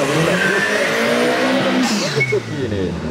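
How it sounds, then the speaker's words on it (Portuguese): A drag racing car at an arrancada strip warms up its tyres, a loud close engine roar with screeching tyre squeal and rising pitch, while an announcer talks over it. "Aí já aqueceu os pneus, Alexandre Sequini"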